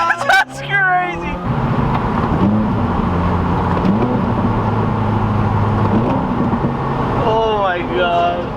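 A 2018 VA Subaru WRX with a Nameless axle-back exhaust and no tune revs steadily and loudly, its engine drone rising and falling with occasional crackles, while excited voices talk near the start and end.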